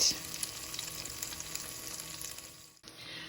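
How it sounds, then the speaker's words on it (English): Challah French toast frying gently in a pan over low to medium heat, a steady soft sizzle with faint crackles that drops out briefly near the end before resuming. "so I'm just cooking this a little bit on the slower side because I really want the flavors to get into the challah bread"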